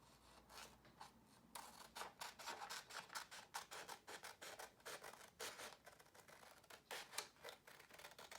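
Scissors cutting a square out of a paper template, a quiet, close run of rapid rasping snips and paper rustles, repeating steadily with brief pauses.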